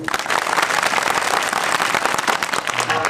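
Men in the audience of a Marathi devotional kirtan clap together, making a dense, continuous rattle of many hands at an even, strong level for about three seconds, with no talk over it.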